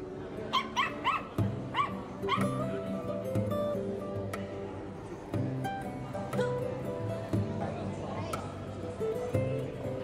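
Several dogs bark, yip and whimper at a market where people bring dogs and cats to sell, with sharp repeated barks near and far over a steady crowd murmur and voices talking.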